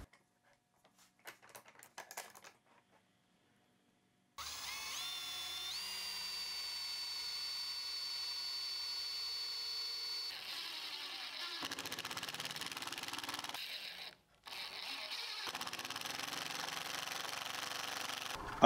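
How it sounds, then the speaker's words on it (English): A drill press bores out wooden plugs with a sustained high, whining buzz after a few quiet clicks, running steadily with a brief cutoff near the end before resuming. "I cut the plugs at the drill press, broke them out with my screwdriver, and then glued them in place."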